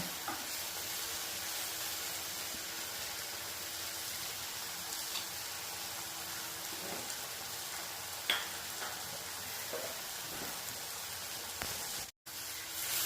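Brinjal frying over a low flame in an open, uncovered pan for ulli theeyal and stirred now and then, a steady close sizzle with occasional soft scraping strokes, no voices.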